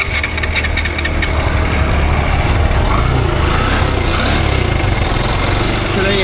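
A second-hand Suzuki Gixxer Monotone motorcycle in good condition starts up and idles outdoors, producing a loud, steady engine rumble that runs throughout against background traffic noise.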